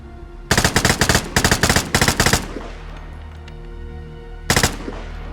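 Rapid bursts of automatic fire from the Bugle rifle in the shooter game Vigor, three quick volleys of sharp, punchy shots close up, then a pause and one short final burst.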